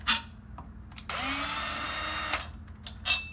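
A power screwdriver backs screws out of the spindle plate of a Weslock entry door handle: a short whir, then a sustained higher-pitched drive lasting over a second, and another brief burst at the end, close and clear.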